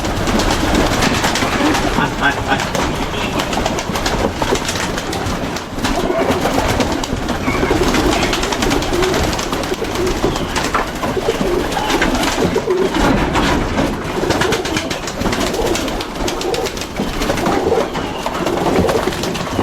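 Pigeons coo repeatedly at close range inside a home, their soft throaty calls running through a constant noisy background with some voices talking.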